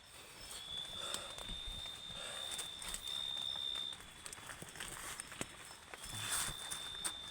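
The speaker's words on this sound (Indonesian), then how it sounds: "Luar sana ada suara langkah kaki." Footsteps crunch slowly outside a tent at night during solo camping in a forest, soft irregular thuds on the ground under a steady high insect drone, moderately near and faint.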